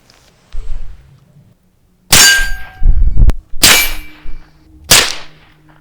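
Suppressed rifle shots ring off a steel target at an outdoor range: three sharp, loud metallic clangs spaced about a second apart, each with a quick ringing tail, preceded by soft shuffling.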